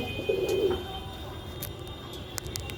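Soft, low pigeon cooing near the start over a steady background hum, with a few faint clicks and taps later on.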